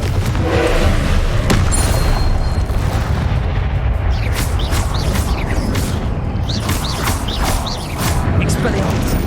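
Hogwarts Legacy combat with repeated booming spell blasts and crackling magical impacts in quick succession, dense and loud throughout, with speech mixed in among the bursts.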